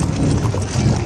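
Horse hooves clip-clop steadily and close, a quick continuous trotting rhythm that holds loud throughout with no voices over it.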